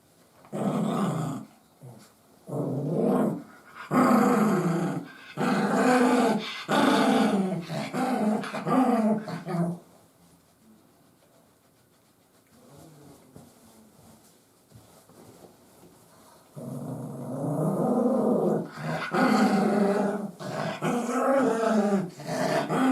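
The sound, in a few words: dog growling while being dried with a towel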